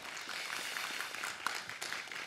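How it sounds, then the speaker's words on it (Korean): An audience at a welfare and health policy talk event claps for a speaker. The dense, even applause stays moderately loud and constant through the short stretch. "수고하신 최연수 위원께 다시 한번 큰 박수 부탁드리겠습니다"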